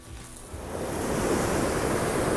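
Sea waves wash onto the shore at a town on the Italian–French border, a steady close roar of surf building over a couple of seconds with some wind noise and no talk.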